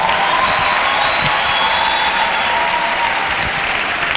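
A church congregation applauds the Lord, a steady, loud wash of clapping from a large crowd that continues throughout, with faint voices mixed in.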